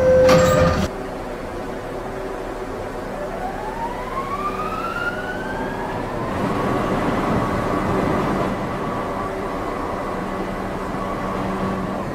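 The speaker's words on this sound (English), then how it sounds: "Stand clear of the closing doors." A sharp door chime or announcement tone, then rising whining tones and a low rumble as subway train doors close and the train departs in the video game Roblox.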